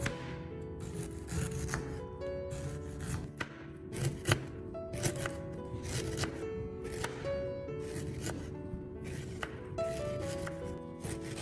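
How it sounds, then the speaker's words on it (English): Garlic and ginger being sliced into thin pieces with a knife, a steady run of quick, crisp cuts on a board, close and clear over soft background music. "Slicing it into thin pieces will help the honey infuse evenly"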